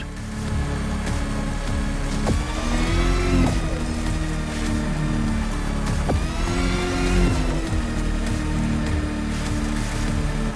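An electric car with three electric motors drives through The Crew Motorfest, a loud steady whine and road rumble that swells twice as it climbs and speeds up, with no talk.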